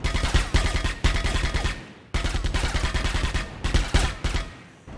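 Rapid bursts of gunfire fill a shootout against enemies in the rail-shooter game Delta Force 2, loud and rhythmic, with repeated automatic volleys broken by two short pauses.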